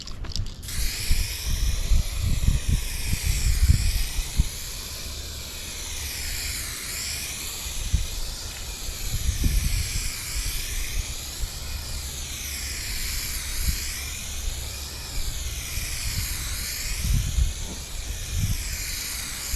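A spray gun lays down a final coat of 2K clear over a metallic cobalt blue and silver two-tone car, a steady close hiss that swells and eases in regular passes over low background rumble.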